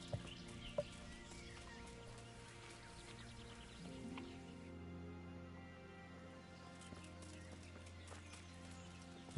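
Horse hooves clip-clop faintly in Kingdom Come: Deliverance, a soft irregular plodding with bird and chicken sounds in the quiet rural background.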